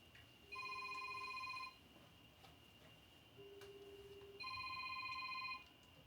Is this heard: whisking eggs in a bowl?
no